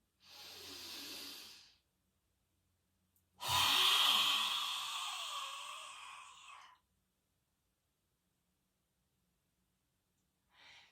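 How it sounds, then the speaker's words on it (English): Two slow, deep breaths, a softer one and then a long, loud hissing exhale, close to the microphone, separated by silence. "When you're ready, breathing in."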